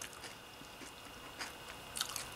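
Quiet close-up crunching as someone chews crunchy, sweet marshmallow cereal, a few soft bites and crackles spread over a couple of seconds.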